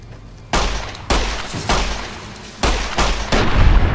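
Gunfire in Fallout New Vegas during a fight with soldier ants: about six loud, sharp shots at irregular intervals, each with a short booming tail, heard close and alone.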